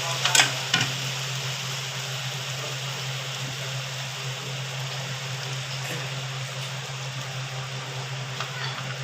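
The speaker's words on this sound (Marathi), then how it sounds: "आपण त्यात आता हे चटणी सहित बांगडे कढईत सोडून देऊ।" Mackerel coated in spicy chutney with browned onion sizzling in a wok, a steady close frying hiss throughout with a few stirring clatters near the start, no speech.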